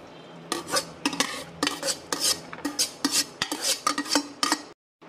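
Cooked black beans and black sticky rice being strained, with repeated scraping and clinking of a utensil against a metal strainer and pot in uneven bursts, close and fairly loud, no talking.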